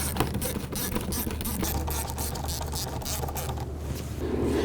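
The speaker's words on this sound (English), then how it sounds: "Using an 8mm socket, we're going to go ahead and loosen this hose clamp here" A ratchet with an 8mm socket loosens a hose clamp in the engine bay of a 2004-2009 Dodge Durango, giving a close, rapid series of clicking pawl strokes in repeated bursts over a low background hum.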